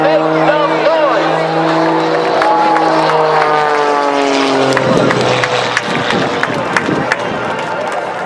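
A Team Oracle aerobatic stunt plane roars at the Wings Over Houston 2018 air show, its loud engine pitch sweeping down as it passes close, while an announcer speaks over the public address and a crowd murmurs in the background.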